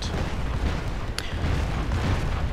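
XM-25 grenade launcher in a video game, heard as a dense, rumbling blast texture with one sharp crack partway through, loud and close, no talking over it.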